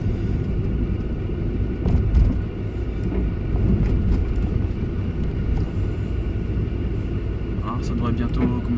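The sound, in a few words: Mitsubishi Colt 1.3 4G13 engine idling at 1000 rpm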